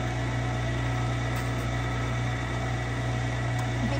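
A meat grinder with a fine grinding plate works through rabbit meat, its motor giving a constant loud, even drone with a low hum throughout, near and uninterrupted.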